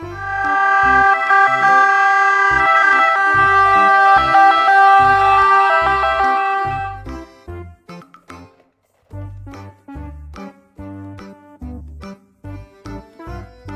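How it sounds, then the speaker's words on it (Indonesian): A toy ambulance gives off a loud electronic wailing siren, its pitch sweeping up and down over a steady tone for about seven seconds, then turns into broken, clipped bursts of the tune. "Mobil ambulans."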